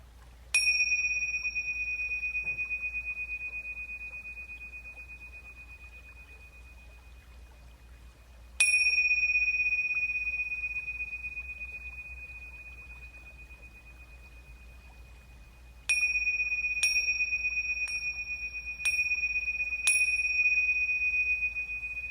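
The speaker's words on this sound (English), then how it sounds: "Coming home to your awareness with the sound of the bell." A meditation bell rings clearly and decays slowly, then rings again. A later run of quicker strikes follows, each sustained tone fading in a quiet room with no talking.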